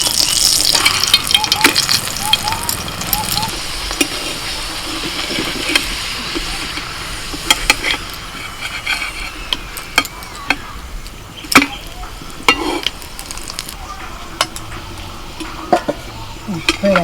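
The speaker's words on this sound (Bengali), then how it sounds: "এবার তেল দিয়ে দিচ্ছি, ভেজে নেবো।" Paratha frying in oil in a home kitchen, made with carrot and radish, giving a soft steady sizzle broken by frequent sharp clinks and scrapes of a utensil against the pan.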